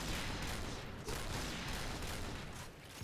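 Continuous loud gunfire from the online shooter Point Blank, dense rattling bursts filling three seconds with no pause, close and heavy.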